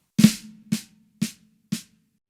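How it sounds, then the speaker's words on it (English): Four sharp drum strokes on a snare, the second half of a flam paradiddle, evenly spaced, the first a doubled flam hit; crisp, close, with a faint ringing tone between hits. "is the second half of a flam paradiddle"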